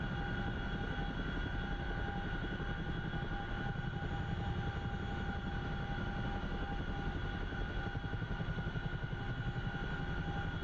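A Boeing CH-47 Chinook helicopter descends to land, its engine and rotor noise a steady, loud, broadband drone with a constant whine, heard from inside the aircraft throughout.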